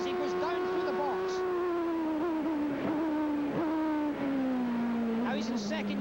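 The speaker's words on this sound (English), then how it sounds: "Now listen to this as he goes down through the box." A 1988 CART race car engine at Meadowlands drops in pitch as the driver works down through the gearbox, with brief blips between downshifts, heard from inside the car over a steady loud drone.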